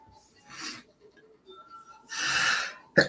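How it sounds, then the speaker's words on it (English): A person sneezes repeatedly, close up: a short breathy burst, a pause, then a longer, louder sneeze followed by a sharp final snap. "how many times can I sneeze?"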